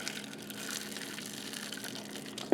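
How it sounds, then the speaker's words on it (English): Boiling water is poured from a kettle over washed and rinsed canning lids, producing a steady rushing, splashing gush that runs throughout with a slight bump at the end. "I'm just going to cover them with some boiling water"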